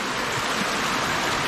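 Stream water at Sundarijal, Nepal, rushes in a steady, loud, broadband wash, close and continuous with no voices.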